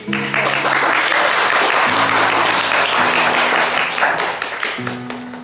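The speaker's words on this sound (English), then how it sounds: "we can end this hearing with a little bit of clapping" Courtroom clapping closing an adult adoption hearing: a steady burst of many people applauding throughout, with a few sustained tonal notes sounding over the applause, fading slightly at the end.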